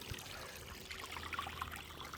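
Basement water from a sump pump drains and trickles outdoors, a faint, steady flow with a soft background hum.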